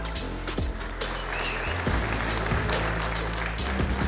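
At a boxing event, a crowd applauds young fighters with a dense, sustained roar of clapping and cheering that carries on for several seconds.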